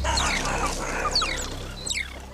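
A group of mongooses chirps angrily, with rapid, sharp sweeping calls close by in overlapping bursts that taper off near the end.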